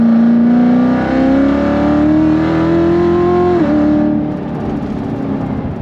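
A 1000-horsepower Corvette C7 Z06 accelerates hard in third gear, its loud, rising engine roar building steadily for several seconds before a gear change dips the pitch, then the engine drones on inside the car.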